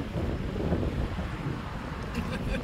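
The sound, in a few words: wind blowing at the beach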